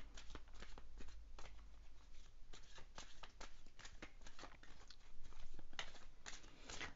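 Tarot cards are shuffled for a reading in a steady run of crisp riffles and slaps, close and fairly quiet, with no talking over them.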